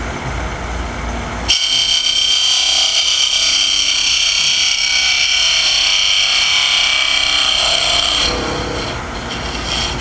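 Scraper cutting wood on a lathe while turning a lidded box: a loud, bright, continuous scraping hiss that starts abruptly and holds steady for several seconds before easing off, heard alone without talk.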